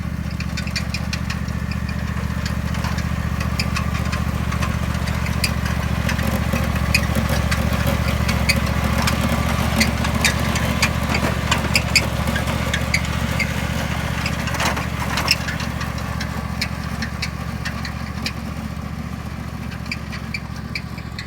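The engine of a lawn plugger, a core aerator, runs steadily nearby on a farm, a loud constant low drone with a rough idling knock and small irregular clatters on top, with no voices.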